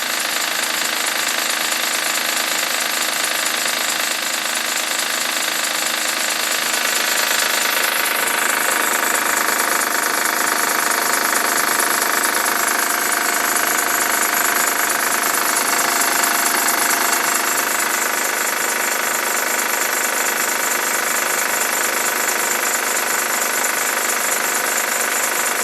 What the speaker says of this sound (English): sounds like it's coming down from the timing belt right there